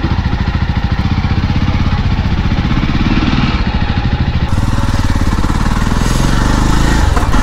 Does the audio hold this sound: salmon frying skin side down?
no